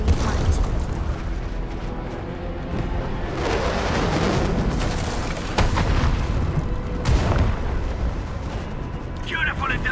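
UWST strikes landing on a marked spot in the video game Arknights Endfield, several heavy booming blasts breaking through a dense, constant rumble of battle, loud and close, with a few sharp bursts spaced a few seconds apart.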